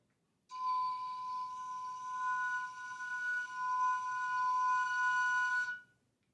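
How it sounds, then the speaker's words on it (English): Piccolo multiphonics: a sustained, steady multi-tone sound with two close bright pitches beating against each other over a breathy edge, held for about five seconds alone. "Like on flute, multiphonics are possible on piccolo."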